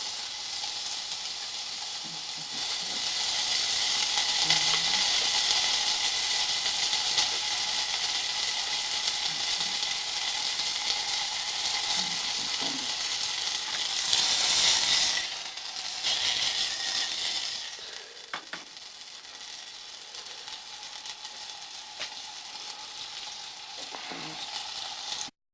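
Chicken, rice and vegetables fry in oil inside a small canteen cup, giving a steady, close sizzle that runs throughout with occasional scrapes of stirring and a drop in level near the end.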